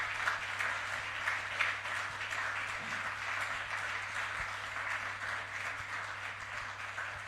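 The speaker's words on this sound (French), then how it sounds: "nous allons acclamer." Sustained applause from a church congregation honoring a trainer, an even wash of many hands clapping at moderate distance throughout, no speech over it.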